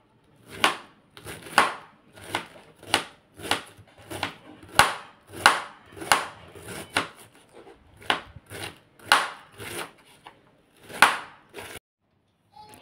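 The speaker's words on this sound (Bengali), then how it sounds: "একটু আনাজ ফানাজ কাটি" Vegetables are chopped with a knife on a board in a steady series of about fifteen sharp, close thuds, evenly spaced with brief gaps, heard alone with no talking.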